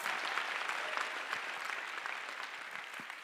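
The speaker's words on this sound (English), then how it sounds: "Give yourselves a round of applause." Audience applause fills a room during a live motivational talk: dense, steady clapping from many hands that runs unbroken for the whole stretch at an even, moderate level, with no voices standing out.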